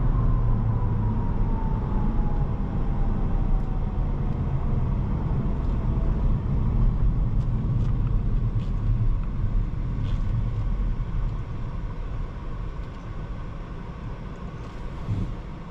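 A 2020 Volvo S60 T8 Polestar Engineered sedan driven fast, giving a steady rumble of engine and road noise from inside the cabin with a faint rising whine early on.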